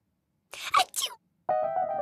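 A cartoon character in a Peanuts animation gives a single voiced, acted-out 'achoo' sneeze, then another character starts talking.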